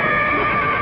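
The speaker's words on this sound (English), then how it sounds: "I thought I heard a horse." A horse gives a short, bright whinny, loud and close, lasting under a second with a tonal, quavering quality.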